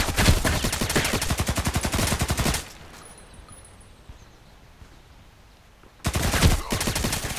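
Automatic gunfire in the Contract Wars shooter game, loud rapid rattling bursts for a few seconds, then a quiet pause before another close burst begins.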